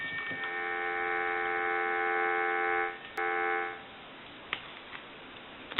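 Telephone line dial tone, a steady buzzing hum held for about three seconds, briefly interrupted, then cut off, followed by faint clicks and room noise.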